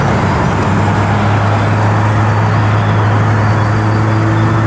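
Steady drivetrain whine and hum from a 1984 Toyota Celica converted to electric drive with a manual gearbox, held in gear before an upshift; a constant loud tonal drone sits over broadband road rumble, with no speech.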